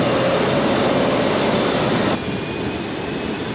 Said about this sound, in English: this is the train that is going to bring us to Canberra